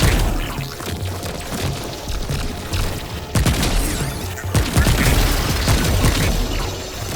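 Gunfire from a secret gun in the video game Remnant 2 lands in heavy booming bursts and crashing impacts over mechanical clatter, loud and dense, with sharp transient hits spaced across the stretch.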